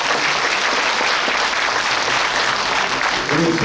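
Sustained applause from an audience at a book launch event in Suncheon, a dense steady clapping that fills the whole stretch without a break.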